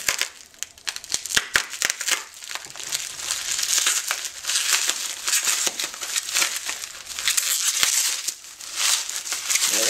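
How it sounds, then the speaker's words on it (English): A knife slicing through packing tape on a shipping box, giving steady crinkling and crackling scrapes with brief sharp snaps, close and fairly loud throughout with no talking. "Just gonna try and cut the tape without cutting too deep in anything."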